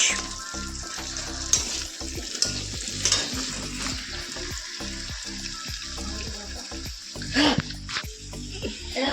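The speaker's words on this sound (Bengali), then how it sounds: "এ দেখো আমি রান্না করছি" Food sizzles and fries steadily in a pan while a utensil scrapes and stirs in repeated strokes, close and continuous, with household noise and a voice now and then in the background.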